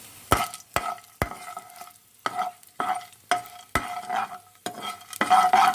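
Whole spices such as cinnamon, cardamom, cumin, fennel, pepper and cloves frying in hot oil for a Tamil veg salna, with sharp stirring clacks and bursts of close sizzling throughout.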